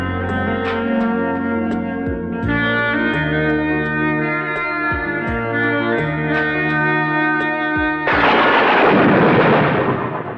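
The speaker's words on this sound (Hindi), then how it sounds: "एक जोरदार बिजली कड़की।" A thunder clap in a South Indian action movie: a loud, harsh broadband crack bursts in near the end over a tonal dramatic music score.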